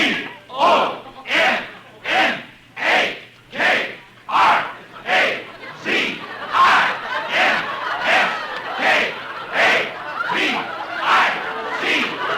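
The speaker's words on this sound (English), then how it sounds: "The rooting section stood up and began to cheer for me" Football rooting section in an old-time radio comedy, chanting a long name in loud rhythmic bursts, about a dozen regular crowd shouts building into a continuous roar of voices.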